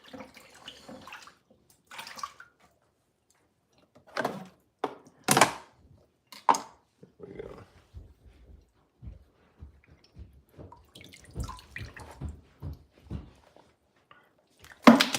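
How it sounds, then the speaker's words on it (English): Salt water is poured in short, separate splashing bursts with quiet gaps between them, close by, with a few spoken words at the start and near the end. "Get a healthy heap of salt water."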